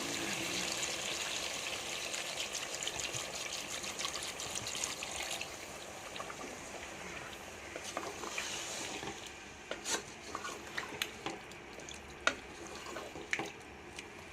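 Water pours steadily into a pot of aloo gosht with a continuous trickling splash, followed by a few sharp clinks and small splashes near the end.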